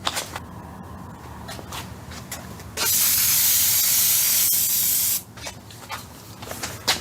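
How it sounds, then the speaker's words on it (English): An aerosol can of adhesive sprays onto contact plastic in one steady hissing burst of about two and a half seconds, set between quieter handling rustles and small clicks. "Now it's time to spray the adhesive onto the contact plastic stuff."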